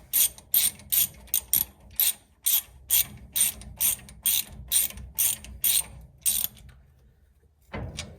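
Repeated ratchet clicks while suspension bolts are snugged down on a 1970 Dodge D100 truck, about a dozen evenly spaced close bursts of pawl clicking, then a pause and a final knock, with no voices.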